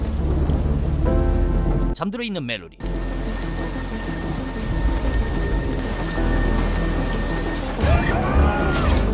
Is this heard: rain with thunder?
yes